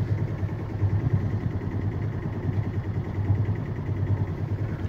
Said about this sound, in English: Still got the engine running.